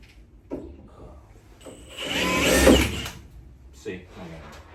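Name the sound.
cordless drill drilling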